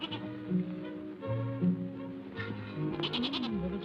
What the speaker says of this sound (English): Say, Burley's a very warm goat, isn't she?